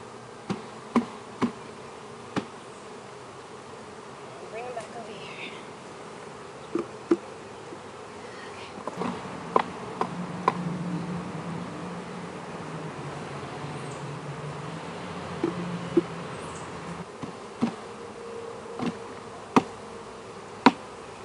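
A mass of honeybees buzzing as they are shaken off a hive frame, a continuous droning hum, with sharp knocks and taps of the frame recurring throughout and a brief louder swell midway.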